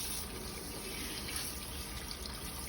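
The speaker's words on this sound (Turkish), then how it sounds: "Yıkadın mı aşkım iyice bardağı?" Tap water runs steadily and close by while a glass is washed under the stream, giving a continuous hissing splash with no speech.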